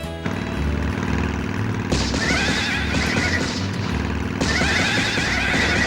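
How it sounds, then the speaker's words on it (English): Wild horse neighing and screaming in the PS1 light-gun game Mighty Hits Special, loud and repeated whinnies over steady game sound with clip-clop hooves, no talk. "your horse is running wild, and you need to shoot it 35 times to make it give up"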